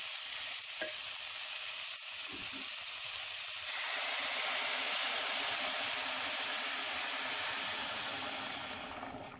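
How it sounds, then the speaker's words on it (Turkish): Hot water is poured onto bulgur and meat frying in a pot, setting off a loud, sustained sizzle and hiss that swells midway and holds steady before fading at the end. "Şimdi de sıcak suyunu bırakacağım."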